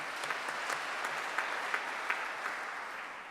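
Steady applause from an audience at an investiture ceremony for a state chief justice, with a few louder individual claps standing out over an even wash of clapping.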